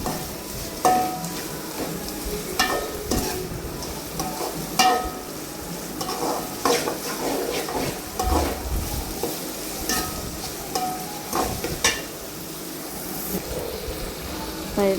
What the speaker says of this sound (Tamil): அரைக்கி வச்ச வெங்காயம் பூண்டு எல்லாத்தையும் சேர்த்து நல்லா வதக்கி விட்டுலாம்